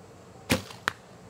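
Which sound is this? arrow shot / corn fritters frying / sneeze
arrow shot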